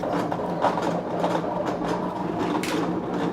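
Electronic craft cutting machine running a cut, giving a steady mechanical whir and light rattling hum that stays continuous and fairly close for the whole stretch, with no talk over it.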